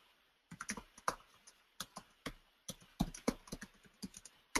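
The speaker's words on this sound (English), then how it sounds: "Typing's atrocious tonight." Typing on a computer keyboard, with irregular bursts of crisp key clicks and taps close by. The keystrokes come in quick clusters separated by short pauses, with no one speaking.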